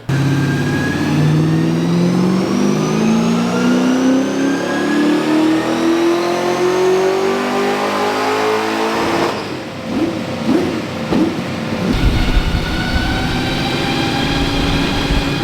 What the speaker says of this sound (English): Right, let's chuck some nitrous out and see what it can actually do.